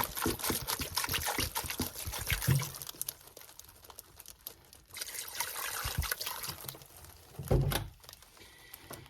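Two quarts of water pour into a soup pot with chicken breast, a steady close splashing trickle lasting several seconds with a couple of louder gushing surges.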